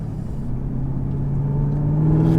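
Chevrolet Camaro ZL1 accelerating, a steady engine rumble heard from inside the car, its pitch rising slowly as it gathers speed, with no talking.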